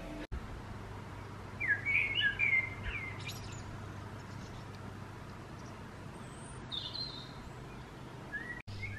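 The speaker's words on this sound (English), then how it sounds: "The birds are so loud" Morning bird chirps and tweets in a short burst near the start, then sparser calls over a steady low hum, fairly distant.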